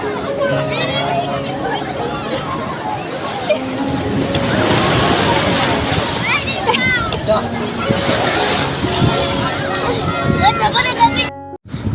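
Surf at Puri beach breaks and rushes in a constant loud wash, swelling in the middle, with a noisy crowd and voices throughout.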